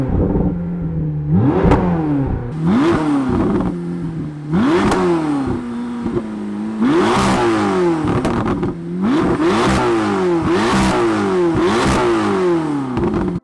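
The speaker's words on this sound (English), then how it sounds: "it sounds like a twin-turbo V8 McLaren" A McLaren twin-turbo V8 engine revving repeatedly, loud rising and falling roars with sharp shifts and crackles, close and continuous with no talking.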